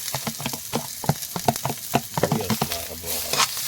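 Onions fry in a hot pan with a close, crackling sizzle broken by frequent sharp pops and scrapes of stirring, with no talking.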